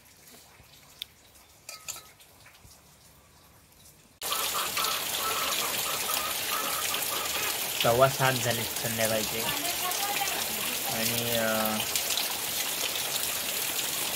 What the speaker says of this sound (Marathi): पाऊस पडते जोरदार.